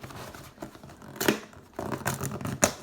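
Cardboard packaging for a Razor Basilisk is torn open by hand, with two or three short bursts of crinkling and ripping separated by quieter handling, close and fairly soft, with no talking.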